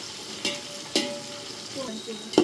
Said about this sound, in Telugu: ఎక్కువ బోటి ఫ్రై చేస్తున్నాం